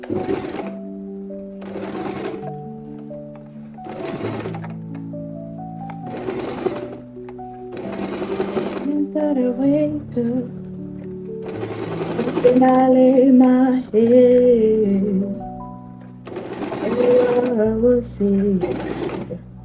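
A sewing machine stitches wig wefts in repeated bursts of rapid whirring separated by short pauses, with a voice talking over parts of it.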